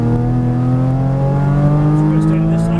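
A Porsche Cayman GTS engine revs loud and close on a track, its pitch climbing steadily under load in one continuous droning pull, with a voice talking faintly underneath.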